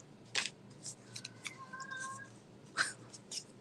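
A pet cat named Tommy's cat meows in two short, sharp cries at a campsite, faint and slightly distant, with rustling and quiet shuffling between them.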